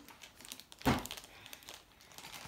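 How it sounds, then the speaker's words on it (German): Plastic packaging of a Weber kids kettle grill toy crinkling during unpacking, with one sharp loud rustle followed by softer scattered crackles, close to the listener. "Komm her, wir müssen erst noch was auspacken hier."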